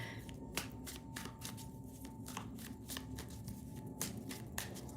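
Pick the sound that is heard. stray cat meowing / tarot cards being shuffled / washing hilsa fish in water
tarot cards being shuffled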